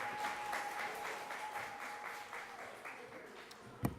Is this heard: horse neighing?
no